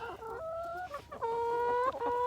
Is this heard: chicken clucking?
yes